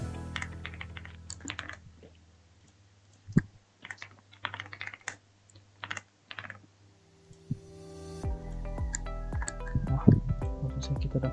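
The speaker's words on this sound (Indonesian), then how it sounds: "kita input data dulu." Sparse taps on a computer keyboard while entering account registration data, coming in irregular short bursts over a faint hum. A louder, busier stretch of clicks and background noise follows toward the end.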